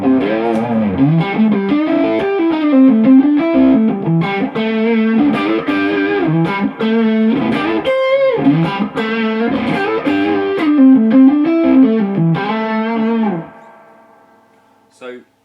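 Electric guitar played through a J Rockett The Dude overdrive pedal with gain all the way up, a thick driven tone in a continuous run of chords and riffs, then a fading ring-out.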